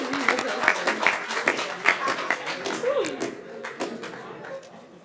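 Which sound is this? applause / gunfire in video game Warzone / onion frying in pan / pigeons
applause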